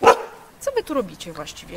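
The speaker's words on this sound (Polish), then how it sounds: "To jest właśnie mój pies." A pet dog gives a short bark up close at the start, followed by a woman's speech in Polish.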